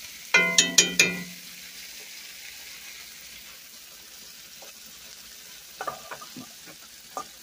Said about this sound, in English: And I have the taco seasoning in. Now let that cook till the meat is done.